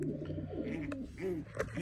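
Racing pigeons coo softly in a loft, a few rolling, bubbling calls close by and fairly faint, with no speech.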